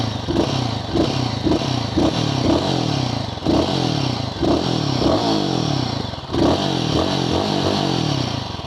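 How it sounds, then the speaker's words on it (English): A Royal Enfield Guerrilla 450 motorcycle engine revs repeatedly in neutral, each throttle blip rising and falling in a steady rhythm with mechanical clatter, close and loud. "In neutral, I was doing this, okay. And when I was revving it, the bike automatically got cut off."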